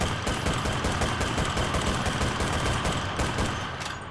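Rapid automatic weapon fire in the video game Enlisted, a dense continuous burst of shots over a low engine-like rumble, loud and close, tapering slightly at the end, with no talk.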